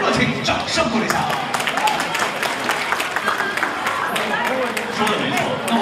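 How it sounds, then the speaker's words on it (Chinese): Audience applause at a 2016 Sing! China (The Voice of China) Australia regional audition awards ceremony, a dense, steady clatter of many hands filling the whole stretch, with crowd noise mixed in. "给他们的热情掌声鼓励一下"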